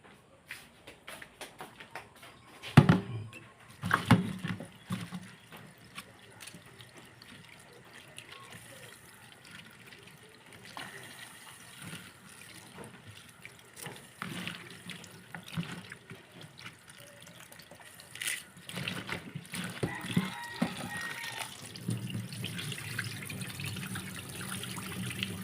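Food is rinsed under a running kitchen tap, with water splashing and gushing unevenly into a sink. Handling noises and bursts of louder splashing come and go over about twenty-five seconds.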